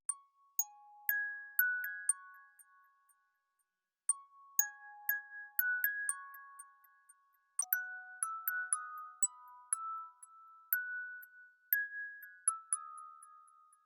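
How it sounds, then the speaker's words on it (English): A synth bell melody made with the Citrus plugin in FL Studio plays bright, clean chiming notes in short phrases with brief pauses between them, soft and clear with no voices. "Here's what I made with the bells."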